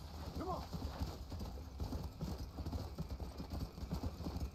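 Horse hooves clip-clop in the Red Dead Redemption: Undead Nightmare video game, a quick, steady rhythmic trot heard fairly faintly beneath someone talking in Spanish.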